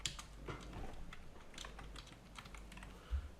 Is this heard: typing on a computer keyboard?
yes